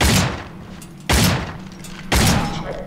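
Three loud gunshots ring out in the video game Cryostasis, evenly spaced about a second apart, each a sharp close blast with a short decaying tail.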